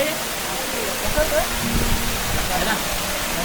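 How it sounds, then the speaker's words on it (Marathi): Broad, constant rushing roar of a waterfall on a monsoon trek in Maharashtra's Tailya Ghat, steady and fairly loud throughout, with a voice speaking briefly over it. "वॉटरफॉल"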